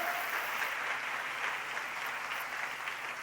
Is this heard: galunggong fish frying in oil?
no